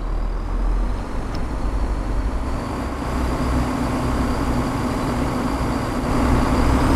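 Train Sim World 4 train on the Fife Circle Line between Edinburgh and Markinch picking up speed, a steady loud rumble and rail roar that holds throughout and swells slightly near the end.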